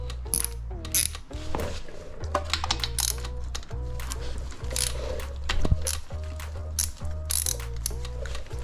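A ratchet wrench clicks in quick bursts while loosening the oil drain bolt on an SSR125 dirt bike, close and moderately loud, with a low engine-like hum underneath and brief pauses between strokes.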